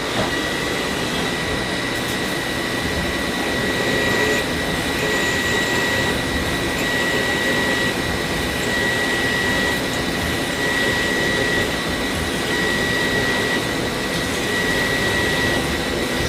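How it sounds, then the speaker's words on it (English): A steady, loud mechanical whine and grinding of a CNC machine pecking a hole in metal with a letter C drill, continuous with a constant high tone over rumbling noise. "then the letter C drill, as in Charlie"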